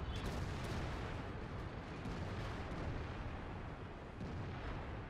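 Tank cannon fire and explosions in the video game World of Tanks, a dense, continuous barrage of booming blasts and crackling bursts that stays loud from start to finish.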